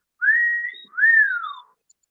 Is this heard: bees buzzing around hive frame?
no